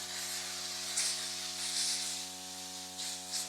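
A steady spray of water from a budget battery-powered sprayer hisses continuously over the low, even hum of its small motor pump, close up, with a few brief surges in the hiss as the water runs low.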